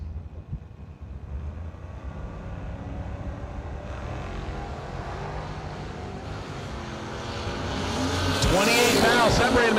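Drag racing cars launch down the strip at a Saturday New Year Nationals event, a steady engine roar swelling into a loud, close blast near the end while an announcer talks over it.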